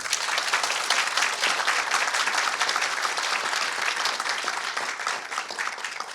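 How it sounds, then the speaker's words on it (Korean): Sustained, loud applause from the audience at the opening of an entrepreneurship talk concert held by the Korea Research Institute of Chemical Technology, steady clapping throughout without a break. "다 같이 힘찬 박수로 시작을 하겠습니다"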